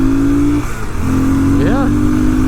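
A 2006 Triumph Scrambler 900 motorcycle accelerates in first gear, its engine note dropping briefly then rising steadily with a quick upward sweep near the end, close and loud under wind noise.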